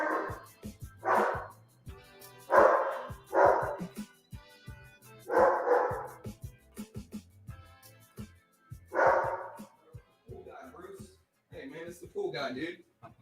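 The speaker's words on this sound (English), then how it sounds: "I'm going to go see what my dog is barking at" A dog barks repeatedly in loud, irregular bursts nearby, with a person talking intermittently between the barks.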